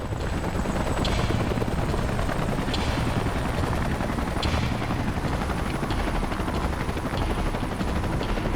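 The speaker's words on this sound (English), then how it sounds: "Let's call in the salvage choppers and get it out of here." Salvage helicopters in the video game Xenoblade Chronicles X, a loud continuous rotor roar with steady rapid blade chop and high whine, holding at constant volume throughout.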